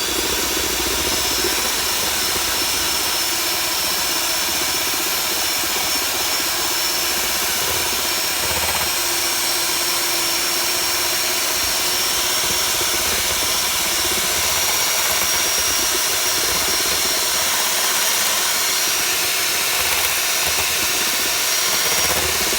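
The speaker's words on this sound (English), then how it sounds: "And then we'll go and turn the mixer back on." An electric mixer whipping amaretto whipped cream gives a loud, continuous motor whir with a steady high whine that runs unbroken throughout, with no voices.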